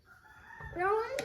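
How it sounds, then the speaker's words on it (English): A rooster crows briefly among a new flock of chickens in a farm coop, a short rising call close by, with faint clucking underneath. "Horace is down here with the new group of chickens who still haven't left the coop."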